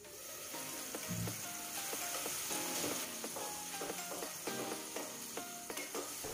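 Eggs cooking in a mustard (kasundi) sauce gravy over a medium flame give a steady close sizzle and bubbling, with scattered clinks and scrapes of stirring throughout.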